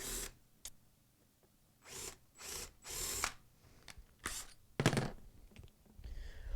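A power drill whirs in several short bursts, driving screws into wood for an anvil stand, pausing between each, with occasional clicks and knocks; fairly faint, no speech.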